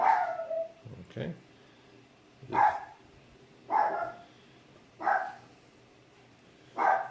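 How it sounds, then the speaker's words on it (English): A pet dog indoors barks five separate times, each a loud, sharp single bark with short pauses between, sounding fairly close. "my dog needs to bark"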